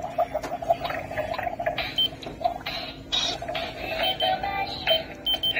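Beeping from a new item on display in a store, with a steady tone repeating over a busy background of shop noise and chatter, and short electronic bleeps scattered through the whole stretch.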